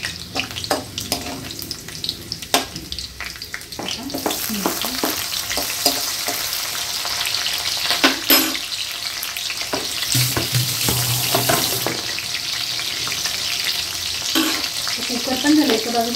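Ginger and small green chillies sizzle and crackle in hot oil in a home kitchen. Sharp bursts of frying rise and fall with stirring, and occasional clinks are heard over a steady background hiss.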